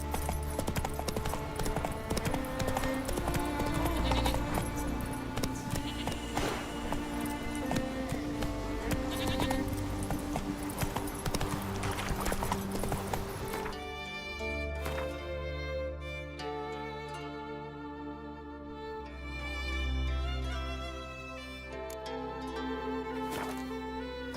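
Horse hooves clip-clop steadily in The Witcher 3 as the horse moves along, the rhythmic steps sitting under a dense bed of game music and ambience throughout.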